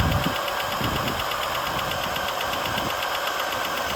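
A Buick engine idles with a rod or lifter knock, a loud, close, steady mechanical rumble and clatter carrying a rapid regular tapping throughout, with no voices.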